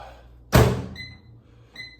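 A single solid thunk of a microwave door shutting, followed by two short electronic beeps.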